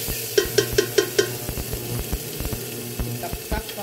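Chicken pieces sizzle in a hot pan for a Filipino chicken sinigang, with a run of quick scraping stirs or taps near the start over a steady background frying.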